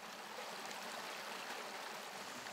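The Cascade des Anglais waterfall in the Vizzavona forest in Corsica gives off a faint, steady rush of water, like a distant stream, with a soft broadband hiss and no other sounds.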